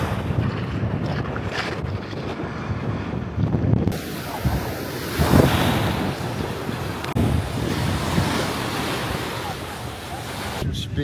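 Ocean waves and wind on Miami Beach. A steady roar of surf and gusting wind buffets the microphone, continuous and loud throughout.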